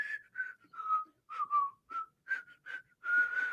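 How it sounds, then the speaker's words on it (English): A person whistles the Tales from the Crypt theme song, a short run of clear, pitched notes in separate phrases, close and alone, ending on a longer held tone. "he starts whistling the Tales from the Crypt song"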